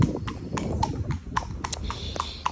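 A horse being ridden out on a hack walks along, its hooves clip-clopping in an even, steady rhythm of sharp close knocks over faint background rumble.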